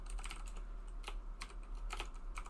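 Rapid typing on a computer keyboard during C# game-programming work, a steady close clatter of keystrokes with a few louder bursts over a low electrical hum.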